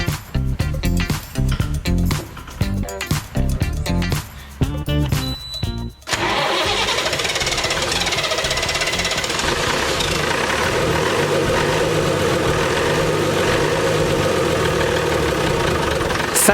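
A project bus engine cranks in a rapid, uneven burst for several seconds, catches and settles into a steady, loud, rumbling run that holds close and continuous to the end.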